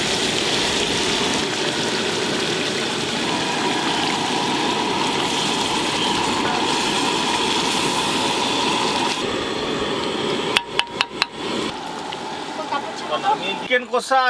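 Water poured into a pan of prawn malai curry makes a steady, close rushing splash that runs for several seconds, then gives way to quieter bubbling and a few sharp knocks.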